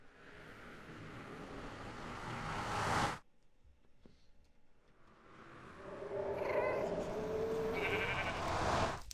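Sheep bleating in Minecraft, a few wavering bleats rising over a noisy game backdrop after a brief quieter gap.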